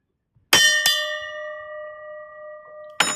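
A bronze ship's bell, roughly 20 pounds, is struck twice in quick succession, ringing with a long sustained tone, then struck again after a pause, at a paper modelers convention.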